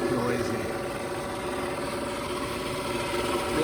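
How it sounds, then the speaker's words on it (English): An old, roughly ten-year-old Intex 11817EG pool pump runs with a loud, steady droning hum and rattling vibration from its diffuser, continuous and close with no talking. "This is an Intex pool pump."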